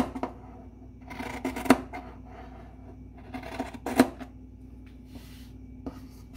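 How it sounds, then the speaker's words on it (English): Scissors cut excess lining fabric near the seam of a crochet bag, close and fairly quiet, with several crisp snips and rustles spaced irregularly against a soft room hum. "So right now I can cut the excess fabric."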